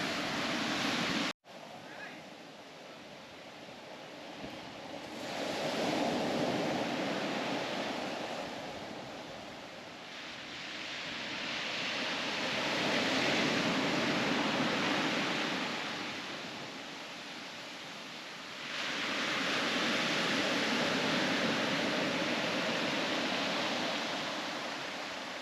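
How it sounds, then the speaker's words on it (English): Surf rolling onto a black sand beach near Hilo on the Big Island, with broad, hissing swells building and washing in roughly every seven or eight seconds, close and steady, plus a brief knock near the start. "black sand beach. Wow. Very black, very black."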